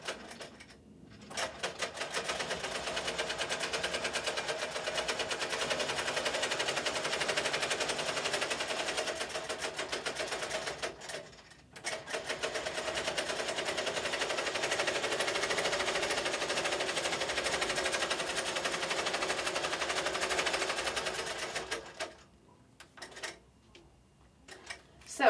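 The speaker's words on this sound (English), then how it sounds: "I have set my machine to stitch just above where the pins are, and I have put it at 5 stitches per inch." A sewing machine stitches a quilt leader at five stitches per inch, running in two long rapid bursts of fast even clatter close by, with a brief pause between and a few short stops at the end.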